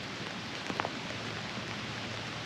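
Rain patters steadily while someone fishes outdoors, a soft uniform hiss of drops with a couple of faint brief knocks partway through, quiet and continuous.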